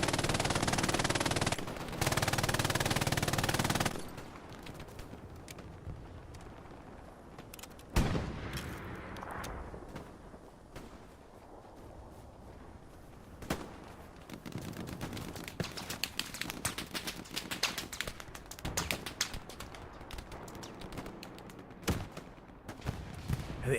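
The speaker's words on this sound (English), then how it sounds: "Cooper. Back on the MG." Machine gun fire in the Hell Let Loose video game around Juno Beach: a loud, continuous burst at the start, then scattered short bursts and single shots of varying distance over a quieter battlefield background.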